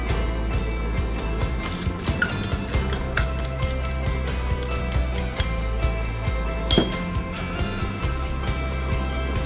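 A utensil stirs soy sauce, mirin and chicken broth in a pot, making quick, repeated metallic clinks and ticks against the pot in a steady rhythm, close and fairly loud, with no talking.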